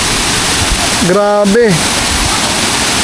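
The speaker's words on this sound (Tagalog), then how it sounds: "Tapos lalapit kayo ron sa falls. Malakas na rin yung tubig" Strong, wide waterfall in Surigao del Sur roars as a steady, loud wash of flowing water throughout, with a person's brief exclamation over it.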